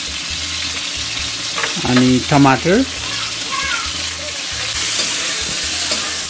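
Chicken frying in a pan with garlic and ginger for a simple local-style Nepali chicken curry gives a steady close sizzle throughout, with a voice speaking briefly over it.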